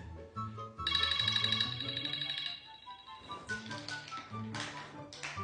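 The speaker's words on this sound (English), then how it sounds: "That's my alarm to open my eyes." Phone alarm tone in a tapping, bell-like melody of bright repeated notes, fairly quiet, shifting into a second chiming pattern partway through.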